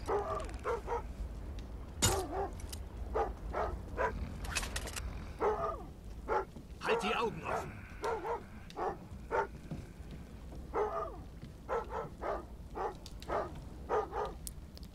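Dog barking in the stealth video game Thief: repeated sharp barks in irregular bursts, fairly close and loud, over a low ambient game background with no talk.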